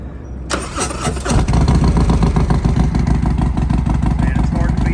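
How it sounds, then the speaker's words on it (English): A 2019 Harley-Davidson Street Glide Special with a Thunderheader exhaust fires up and holds a loud, deep, rumbling idle with throttle blips, heard up close. "it's hard to beat that sound of a Thunderheader"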